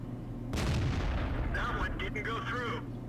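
Heavy tank cannon fire in World of Tanks booms out in a sustained low roar after a short lull, with a sharper metallic ringing rising near the end of the blast.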